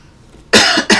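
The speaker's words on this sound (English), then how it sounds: "sorry about the coughing." A person coughs twice in quick succession, loud and close, after a brief near-silent pause.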